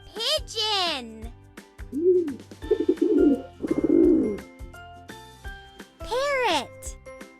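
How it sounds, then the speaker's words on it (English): Pigeon cooing in a children's animal-sound sequence, a few soft low coos set among a bright, tinkly musical backing, with a child-like voice chiming in at moments. "Pigeon."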